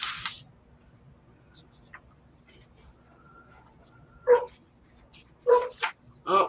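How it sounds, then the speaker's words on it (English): A dog barks in a few short sharp bursts near the end, the first single and the next two close together, after a quieter stretch with faint background sounds and brief noises at the start. "And dog barks at everything."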